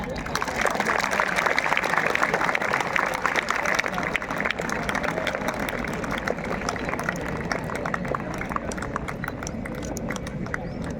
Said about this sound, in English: Students, she is your teacher, so applause